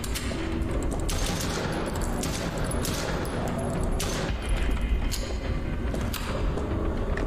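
Rapid bursts of gunfire in a horror hospital video game, dense overlapping shots firing in quick volleys over a loud rumbling background, with no speech.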